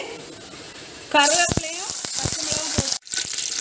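Food drops into hot oil and sautés with a sudden bright sizzle that keeps crackling steadily for a couple of seconds, with a brief pause near the end. Someone talks over the frying.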